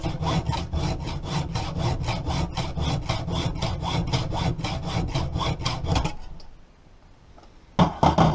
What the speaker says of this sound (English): Then I used a hacksaw to cut the end of the bolt off